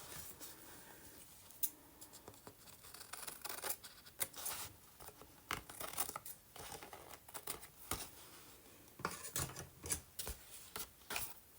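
Scissors cut off a piece of paper on a journal background page, making a string of quiet, close snips and rustles in an irregular rhythm that carry on for several seconds with no talking.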